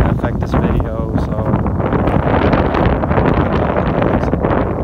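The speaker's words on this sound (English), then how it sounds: "It's really windy." Loud, blustery wind buffets the microphone continuously in a cemetery, a heavy rumbling roar that never lets up.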